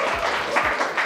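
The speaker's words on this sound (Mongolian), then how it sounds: "Манайха баяр үргээ алга ташаад өгөөч." A school audience applauds at a Mongolian lyceum event, a short burst of moderately loud clapping with a low voice in the background.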